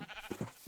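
A cow in the Minecraft video game lets out a few short, low mooing calls in quick succession, moderately faint and with no one talking over them.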